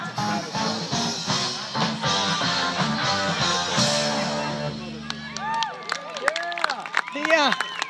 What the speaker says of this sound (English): Everyone's clapping, kind of.